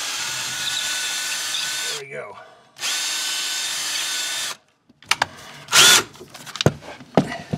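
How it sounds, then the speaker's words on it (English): A power drill bores a hole through an exterior house wall for a coaxial cable line, running in two long steady bursts with a short pause, then stopping for brief scraping handling noises and a short high whine. "So now we'll just go ahead and finish putting the hole through here."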